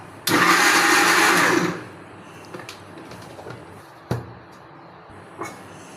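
An electric blender whirs loudly for about a second and a half while mixing cake batter with oil, then stops, followed by faint knocks and a sharp clunk in a quiet kitchen.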